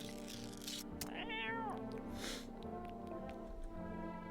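A cat in the video game No I'm Not Human meows once, briefly and clearly, after being fed canned food, over a steady game background hum.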